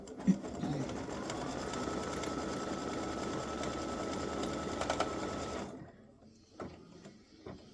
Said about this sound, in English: color stop number 5 is going to stitch a placement line for your side panel